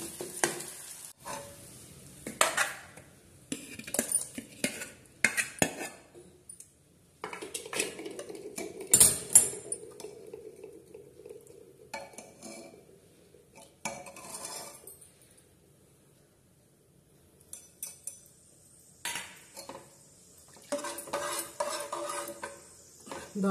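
A hot tempering sizzles as it hits a pot of masoor dal, followed by intermittent scraping and clinking of a spoon stirring, with quiet gaps between.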